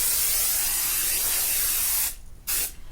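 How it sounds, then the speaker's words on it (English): Spray adhesive sprayed onto a fabric strip for a Minky baby blanket, a close, steady hiss lasting about two seconds, then two short bursts. "then you can spray it right onto the strip"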